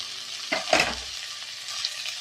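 Grated coconut frying in oil in a pan, a short close sizzle with a couple of stirring scrapes and a brief louder hiss before it settles back to a low crackle.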